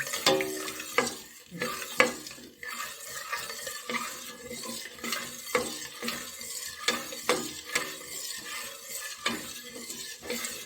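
An egg curry is stirred in a pan. Repeated close metal scrapes and clinks of the spoon against the pan fall in an uneven rhythm over a low frying sizzle.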